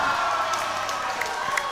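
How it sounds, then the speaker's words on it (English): A wrestling crowd reacts to a top rope powerbomb, producing a steady, dense roar of cheering and voices that fills the whole moment without a break. "The crowd reaction to this."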